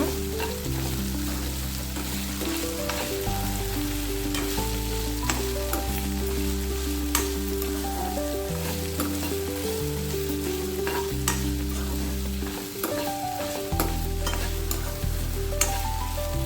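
Chopped okra fries over a low flame for a mustard-style dish, giving a continuous close sizzle with regular scraping stirs of a spatula in the pan throughout and no voices.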